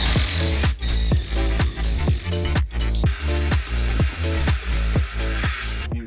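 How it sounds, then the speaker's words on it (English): An impact driver fitted with a 90-degree adapter drills holes aboard a sailboat, running in a loud steady whine broken by rapid regular hammering impacts, with a few short pauses between bursts. "let's get 1, 2 holes drilled in this one and this one, and the rig we've got set up is an impact driver"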